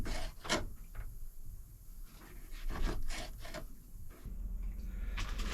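A knife cuts through peeled potatoes for fries on a board, giving repeated rasping, scraping strokes in uneven bursts, close and fairly loud with no speech.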